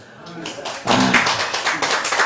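Audience applause in a lecture hall at an anniversary talk, a burst of clapping that swells in and holds dense and steady for about a second and a half, with a voice at the start.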